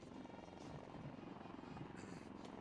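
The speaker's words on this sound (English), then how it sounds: "helicopters of 603 Independent Aviation Brigade are approaching the saluting dais" Military helicopters, Dhruv and Rudra types, approach in a flypast at an Army Day parade in Bengaluru, a continuous low rotor drone and rumble that holds steady and fairly loud throughout, with faint voices underneath.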